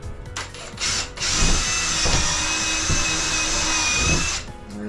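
A power drill bores a pilot hole for a Maxx Air fan installation, whining steadily up close for a few seconds after a couple of short starts, then spinning down at the end.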